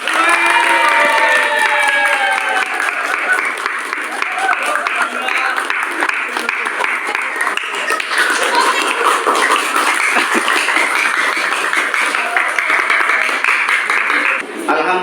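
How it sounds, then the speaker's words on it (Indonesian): Schoolchildren in a classroom applaud steadily for about fifteen seconds, a dense, loud wash of clapping mixed with crowd noise and a few cheers and shouts. "Betul sekali, tepuk tangan."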